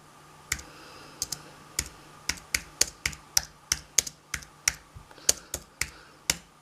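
Sharp, distinct keystrokes on a computer keyboard from someone who is not a touch typist, coming in an uneven series of about fifteen close, clear taps with small pauses, over a faint steady hum and no talking.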